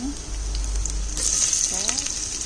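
Ginger and onion fry in a hot pan with a close, steady sizzle and crackle, accompanied by brief scraping and stirring sounds.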